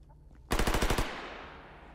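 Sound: gunfire in the video game S.T.A.L.K.E.R. GAMMA

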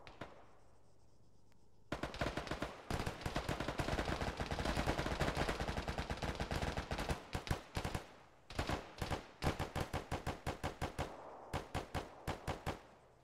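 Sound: heavy machine gun fire in a video game (ArmA)

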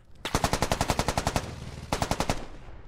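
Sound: gunfire in the video game Squad

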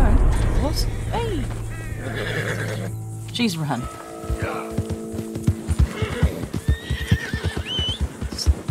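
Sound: Missouri Fox Trotter horse whinnying, from a video game

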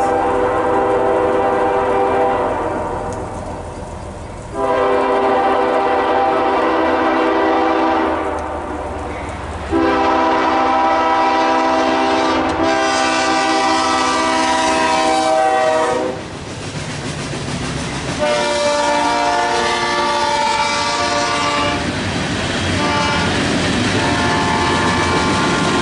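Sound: CSX southbound train passing

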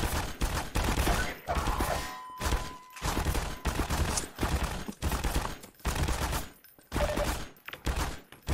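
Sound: airboat gun firing in the video game Half-Life 2

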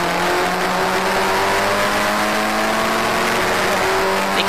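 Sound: historic Formula Ford race cars at Cadwell Park

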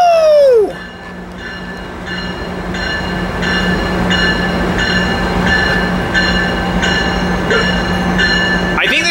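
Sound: Metrolink train arriving at station, MP36 locomotive

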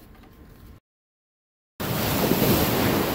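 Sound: ocean waves breaking on a beach

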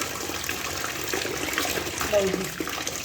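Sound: water rinsing kitchen cloths

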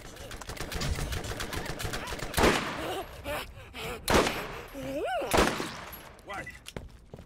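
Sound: sniper rifle gunfire in the video game Borderlands

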